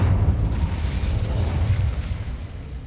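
Incendio fire spell cast in the Hogwarts Legacy game on PS5: a loud, close burst of roaring, whooshing flame that swells and then tapers off, with no talk.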